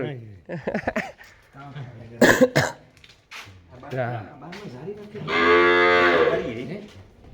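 A cow gives a long, loud, drawn-out moo close by in a new cattle shed, following a stretch of people talking and some throaty noises.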